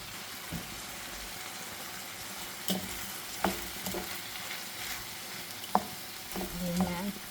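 Rice toasting in tomato sauce for paella gives off a soft, steady sizzle, broken by scattered scraping clacks of stirring, fairly quiet and close, with no talking.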